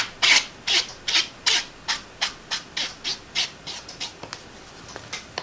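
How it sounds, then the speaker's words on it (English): Repeated rubbing strokes of a cloth wiping excess ink off a metal envelope die, about a dozen quick rhythmic swipes that gradually soften, close and alone with no talk. "I'm going to wipe this off just to get any excess ink."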